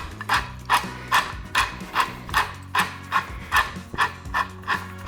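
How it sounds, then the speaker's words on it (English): A big pepper mill cranked over a thick medium-rare steak gives about ten evenly spaced ratcheting grinds in quick succession, close and crisp over a faint low background hum. "we need a big pepper grinder."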